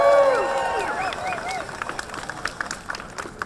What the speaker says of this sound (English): Why don't you give yourselves a round of applause?